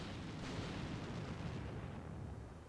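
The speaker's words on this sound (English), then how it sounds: "Looks like the enemy might have dropped a spotting round back here on us." Enemy artillery spotting round landing nearby in the war game Combat Mission: Shock Force 2, a heavy, sustained low rumble of the blast rolling out and slowly tapering off, with no talk.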